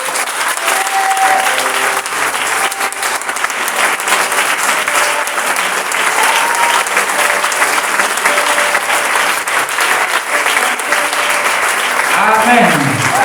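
Church congregation applauding together to acclaim God during a thanksgiving service, a steady, dense wash of clapping from many hands that fills the room and continues evenly throughout, with voices faintly mixed in.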